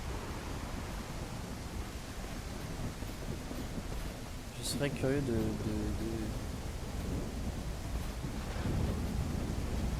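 Thunder rumbles during a storm in the survival game Everwind, with a sharp crack partway through rolling into low rumble over a steady bed of wind and rain noise, while someone speaks quietly beneath it.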